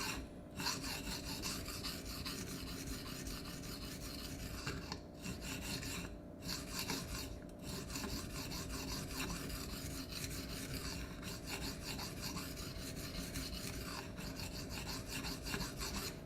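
A steel knife blade being sharpened on a Venev stone, a long, steady run of rhythmic rasping back-and-forth strokes, close and quiet, with a few brief pauses and no talk.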